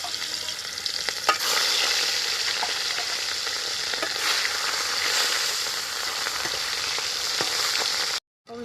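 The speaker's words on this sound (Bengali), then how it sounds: "মাছটা দেখো দিয়ে দিলাম কড়াইতে" Rohu fish pieces fry in white oil in a kadai, giving a loud, continuous crackling sizzle with occasional stirring knocks, cutting out abruptly just before the end.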